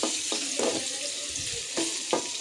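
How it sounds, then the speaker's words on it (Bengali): Meat frying in a pan at home, a continuous hissing sizzle with a few louder bursts as pieces are stirred, close and steady with no talking. "আমি মাংসটা একটু ভেজে নেব"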